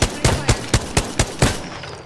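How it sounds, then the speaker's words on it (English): Rapid in-game gunfire from Apex Legends, roughly six sharp shots at an even quarter-second rhythm, loud and close, then a short quiet tail. "I got shots on him, but this gun's not that great from long range"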